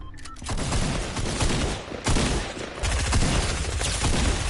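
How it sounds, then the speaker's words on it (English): Sustained video-game gunfire as a player comes under attack, a loud continuous barrage of overlapping shots with sharper bursts around two and three seconds in. "I'm getting shot at right now"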